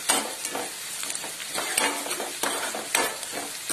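Onion frying in a pan for chana masala, a steady close sizzle broken by regular spatula stirs and scrapes, with no talk.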